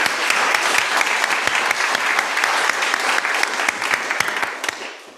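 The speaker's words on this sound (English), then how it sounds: "Can we give a round of applause to all young people in TLSE and Nottingham?" A synagogue congregation applauds young people during an Eco Shabbat morning service, a loud, steady wash of many hands clapping that carries on evenly before easing off at the very end.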